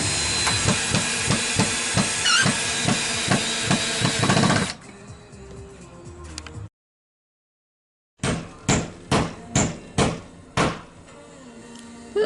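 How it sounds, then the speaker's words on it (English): Nails hammered into greenhouse siding, a run of regular sharp blows under a loud hissing background, then a short silence and a closer, clearer series of about six hammer strikes. "Putting nails below the screws, just in case"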